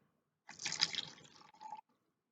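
Water pours into an empty cup for about a second and a half, a close, bright splashing trickle that rises slightly in pitch as the cup fills, then stops into silence.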